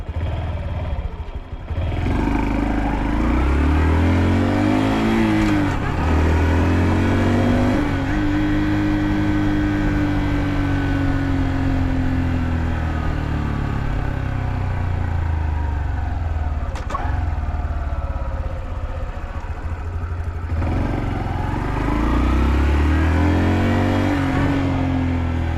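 Honda Dax mini motorcycle ridden in first gear, its small engine revving up and dropping repeatedly in loud, close bursts with rising and falling pitch, plus brief clatter between revs.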